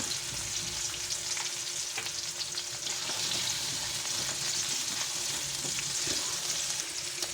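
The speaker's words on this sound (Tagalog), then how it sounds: "magigisa na tayo ng mga aromatic na sangkap. Lagay na natin yung sibuyas at bawang." Onion and garlic sauté in a pan for a Filipino caldereta, a dense, steady sizzle hissing loudly and evenly throughout, with occasional soft stirring scrapes and pops close by and no voices over it.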